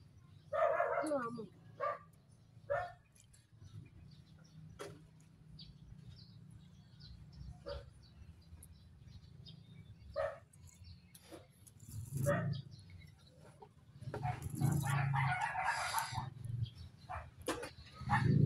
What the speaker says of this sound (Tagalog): may mga aso po rito sa kapitbahay